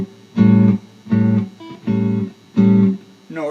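Jazz guitar chord plucked with a pick for blues and jazz comping, four short separate strikes in a steady rhythm, each cut off quickly, close and loud with no talking.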